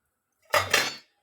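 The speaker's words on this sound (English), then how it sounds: "This is empty bowl." An empty cooking bowl for mutton is handled, producing one short, close clatter of dish and utensil contact that rings briefly against silence.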